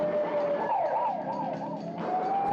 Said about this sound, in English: Kind of a minimalist ambulance.